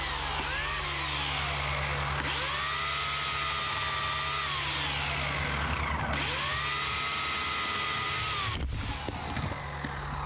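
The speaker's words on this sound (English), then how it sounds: "To get used to the saw, the first thing I'm going to do is trim the small tree trunk." A chainsaw trims the trunk of a small, newly planted Norwegian maple, about 6 centimetres across. The engine whines high and steady, bogging in pitch as the chain bites, then rising again over three long cuts before it drops off.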